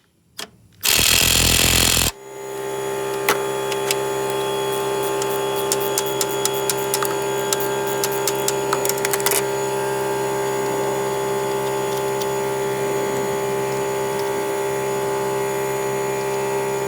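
An impact wrench on a 14mm socket hammers briefly at a motor mount of a 1996 Toyota Avalon: one loud, dense rattling burst of about a second, then a steady mechanical hum with scattered light ticks.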